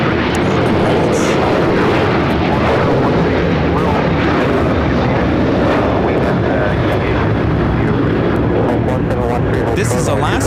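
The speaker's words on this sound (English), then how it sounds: "This is Alaska Airlines 1430 taking off to Puerto Vallarta on the 737-800." Alaska Airlines Boeing 737-800 jet taking off from LAX, a loud steady engine roar filling the whole stretch, with voices talking over it.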